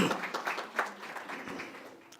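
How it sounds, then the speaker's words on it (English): An audience at the Magic City Classic 2024 news conference gives short, scattered clapping that starts fairly loud and tapers off over a couple of seconds. "you can clap for that"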